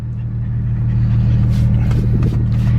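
A Nissan 370Z engine rumbles with a deep, loud idle, its low drone steady and swelling slightly as the car gets under way.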